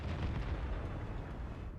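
A tank gun fires in World of Tanks from a Comet tank on the Sand River map, a heavy, sustained low boom that rolls on as a dense rumble for nearly two seconds, loud and close.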